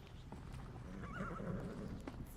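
A horse in the Skyrim VR video game whinnies with a short, quavering neigh over soft clip-clopping hooves, all quiet and close under a faint game backdrop.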